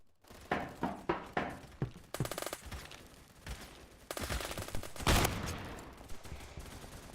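A Remington shotgun loaded with birdshot fires in the video game Phantom Forces: a run of loud, punchy blasts, spaced at first and then in denser bursts, with a few thunks between shots.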